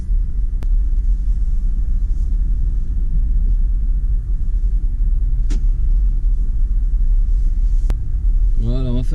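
A Range Rover Velar pulling away in drive mode, a steady low engine and road rumble filling the cabin throughout with a few faint clicks; no one speaks.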